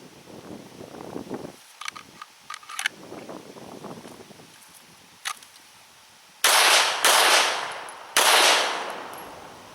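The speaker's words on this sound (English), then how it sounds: "I'm going to just try to shoot at a reasonable speed for combat accuracy" Browning High-Power 9mm pistol fired at a measured combat pace, with several sharp, loud shots spread across the clip, the last two especially close and heavy, each followed by a short ringing decay.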